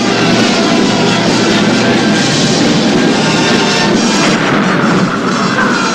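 German siege guns shell the fortress of Brest on the border in a dense, loud, continuous barrage, a sustained roar of heavy artillery fire with no pauses or speech.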